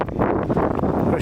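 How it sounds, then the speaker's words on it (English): Cold wind buffets the microphone outdoors at a motorcycle trial, a brief rough gusting rumble that rises and falls over a second, with a voice faintly present. "There's a wind that you can't see, but you might be able to hear."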